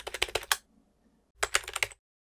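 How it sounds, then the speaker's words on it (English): Keyboard typing sound effect: two quick bursts of rapid, close key clicks separated by a short silence, crisp and isolated. "I'm going to search for typing and find one of the sounds here that fits."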